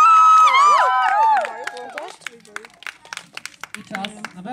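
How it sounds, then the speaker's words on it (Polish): A crowd at an outdoor breakdance battle in Niechorze applauds and cheers for the b-boys, a burst of clapping and scattered whoops following an announcer's amplified voice at the start. "Brawa do naszych b-boy."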